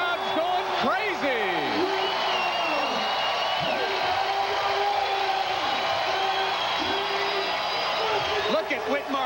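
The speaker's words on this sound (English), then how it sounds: "The crowd's going crazy." A beach volleyball crowd at a 1995 AVP final in Clearwater roars steadily with whoops and rising whistles, dense and loud throughout.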